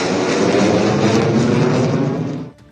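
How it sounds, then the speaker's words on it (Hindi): An Indian Air Force military aircraft passes over the Ganga Expressway airstrip during an airshow, a loud, close, continuous engine roar that cuts off abruptly near the end. "इन तमाम विमानों ने इस एयर स्ट्रिप पर टचडाउन कर इंडियन एयरफोर्स के रण कौशल का लोहा मनवाया।"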